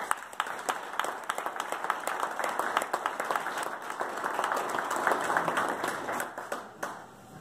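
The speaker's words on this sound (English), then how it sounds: "I'd like you to applaud for Nicole Thompson" A small audience at an awards gathering claps for a sales challenge winner, moderately loud scattered hand claps building into steady applause and fading near the end, with faint voices beneath.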